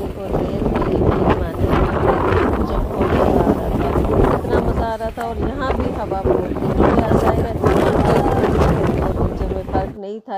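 Strong wind at Guincho Beach, Portugal roars in steady, heavy gusts across the microphone, loud and buffeting throughout, with voices talking underneath.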